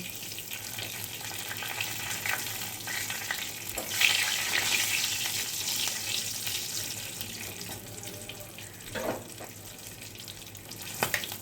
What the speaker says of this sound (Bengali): তেজপাতাটা দিয়ে দিচ্ছি, আর দুটো কাঁচা লঙ্কা তেলে দেব।